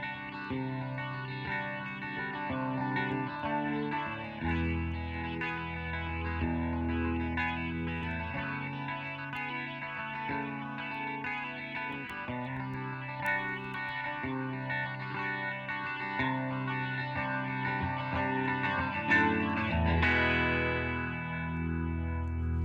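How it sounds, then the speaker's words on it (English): Electric guitar played through a rotary speaker effect, sustained chords with a swirling, warbling chorus-like shimmer, continuous and fairly loud throughout, with no talk. "They used a rotary on this guitar."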